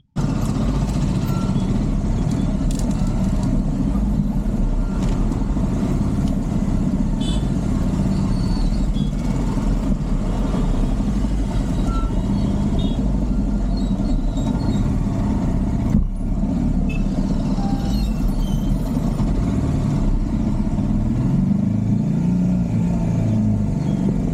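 Highway traffic rolls past from inside a moving vehicle on a Maharashtra road, a constant low engine and tyre rumble with passing cars and trucks, steady and fairly loud throughout.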